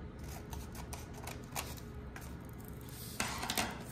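Scissors snip through paper close by while strips are cut for a woven paper heart, giving soft, quiet crisp cuts with a louder rasping cut near the end.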